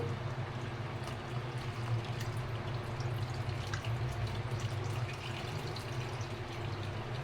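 Dissolved white jaggery syrup poured through a strainer into wheat flour, heard as a steady, close liquid trickle and drip over a low continuous background hum.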